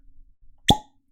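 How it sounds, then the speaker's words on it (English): A single sharp, hollow pop as a cork is pulled from a Buffalo Trace bottled-in-bond bourbon bottle, close to the microphone, with faint handling noise just before. "that's the cork pop you like to hear"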